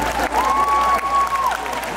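A D23 Expo costume-contest crowd gives a short burst of applause and light cheering for a leather costume, and a sustained whistle-like tone rides over the clapping for about a second.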